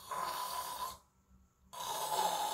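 A person imitates heavy snoring breath, two long raspy rattling inhalations separated by a brief quiet pause, close and loud with no talk over it.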